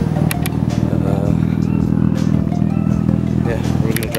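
A Nissan 350Z drives off, its engine a steady, loud, rumbling drone that holds throughout with light rattling on top, and people talking over it.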